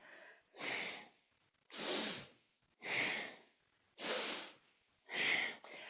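Five strong, evenly spaced breaths during a kundalini yoga kriya for the lungs, each a long airy rush timed to the movement, close and loud with short quiet gaps between.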